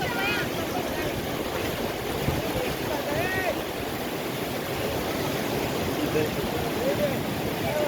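Fast, heavy water surging through opened dam gates, a broad continuous roar filling the whole clip with faint voices and whistle-like tones over it.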